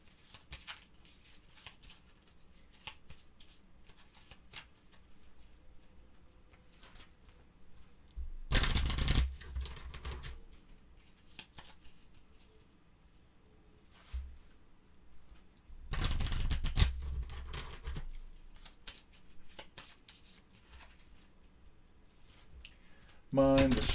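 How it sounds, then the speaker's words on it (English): Board game cards are shuffled in two short, loud riffling bursts several seconds apart, with quieter card handling and clicks between them. "we'll combine the 3 cards here, and we're going to do a quick shuffle"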